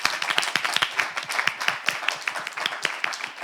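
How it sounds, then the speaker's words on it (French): A small group of people claps, with distinct sharp hand claps in a loose, uneven rhythm that stay fairly close and lively throughout. "applaudissez là"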